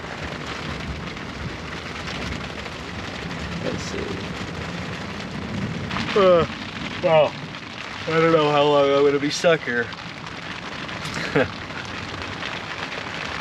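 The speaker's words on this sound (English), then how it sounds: "I'm not gonna put up camp in the rain like this" Heavy rain drums steadily on a rooftop tent while thunder rumbles now and then, someone speaking over the downpour through the middle of the stretch.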